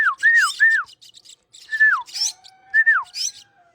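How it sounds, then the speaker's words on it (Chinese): A person whistles several short falling notes while a brood of baby silky starlings, rescued from an air-conditioner pipe, answer with high, harsh begging squawks, close and loud with gaps between calls. "听到口哨就有反应了"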